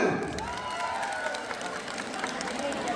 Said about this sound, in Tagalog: Marami pa rin ang pumalakpak.